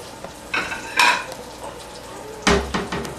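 Plates and dishes clatter in a home kitchen, with a few sharp clinks and knocks standing out above a soft background hiss of oil heating in a pan, and no one talking.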